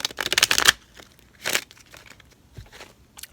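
A deck of tarot cards is shuffled up close: a dense burst of papery crackling and crinkling, a second shorter burst, then faint scattered rustles.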